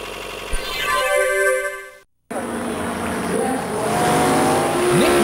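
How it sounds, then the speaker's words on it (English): A supercomp dragster race engine keeps running after heavy sand contamination, a loud steady roar with shifting tones and a brief cutout of total silence partway through before the engine noise resumes. "Look, the car is still running."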